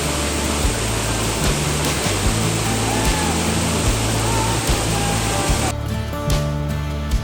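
A waterfall in the mountains near Jibhi and Shangarh roars as a steady, loud broadband rush. A faint low engine-like rumble pulses underneath, and the roar thins briefly near the end.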